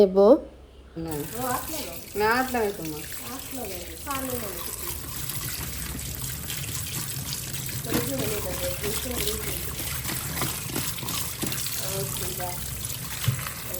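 Water runs steadily from a tap as taro stolons are washed in a kitchen, a continuous close splashing trickle, with someone talking over it at the start and briefly again midway.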